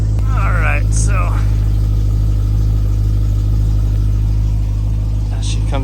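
A 2010 BMW E92 M3 with a six-speed manual sits idling, its exhaust giving a loud, steady low rumble close by, while someone talks over it.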